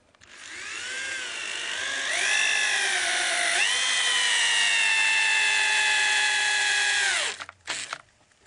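A power drill whines steadily as it drives a screw into a wooden raised garden bed without pre-drilling. The pitch sags as the screw bites, then the motor cuts off with a brief rattle at the end.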